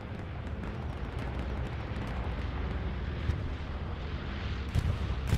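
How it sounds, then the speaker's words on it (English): Bombing run in the video game Hell Let Loose during a competitive 40v40 match: a continuous, rumbling roar of distant explosions with a few sharper blasts near the end. "Bombing run goes in on offense with this cap pressure starting"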